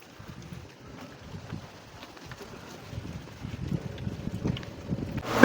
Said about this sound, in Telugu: మస్తు గాలి వస్తుంది ఆడ.